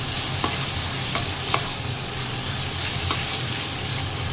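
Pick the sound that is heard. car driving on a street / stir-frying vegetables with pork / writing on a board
stir-frying vegetables with pork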